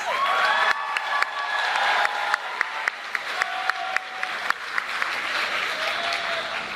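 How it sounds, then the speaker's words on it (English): Graduates at a high school commencement ceremony clap steadily and loudly throughout, with a few sharper claps standing out and faint cheers or whistles rising above the applause. "please give yourselves a big round of applause."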